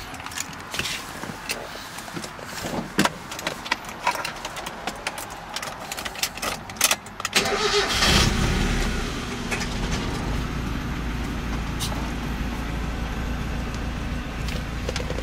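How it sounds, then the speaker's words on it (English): A 1996 Mazda Miata M Edition starting: faint clicks and rustles, then at about eight seconds the engine catches and settles into a steady, moderately loud idle hum that runs to the end. "And here I'm going to start the vehicle up."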